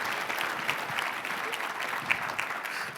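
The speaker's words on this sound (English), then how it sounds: "You can give a round of applause." Audience applause at a small business finance forum's opening plenary: a dense, even spread of clapping from a crowd in a hall, steady throughout.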